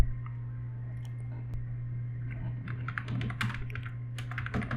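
Someone types on a computer keyboard in a quiet room with a steady low hum: a few sparse key clicks at first, then a quicker, denser run of taps toward the end, fairly close and clear.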